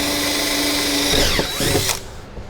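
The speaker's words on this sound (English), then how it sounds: "So luckily this aluminum works real well to drill." A power drill bores into aluminum stock for a power distribution block in an off-grid lithium battery setup, giving a loud, close, steady whine that shifts pitch as the bit cuts through and then winds down.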